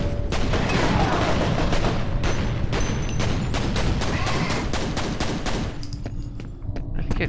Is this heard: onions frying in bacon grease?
no